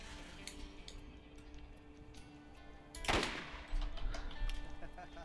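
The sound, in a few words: gunfire from a sniper rifle in the video game Borderlands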